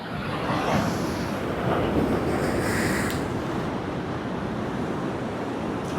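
Large waves break far out and wash in over a stony shore, a continuous loud roar and hiss mixed with wind buffeting the microphone, with no voices.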